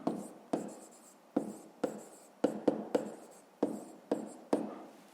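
Pen strokes on paper while a fifth-grade maths exercise is written out, a series of about ten short scratchy bursts in an uneven rhythm, close and clear with no talking.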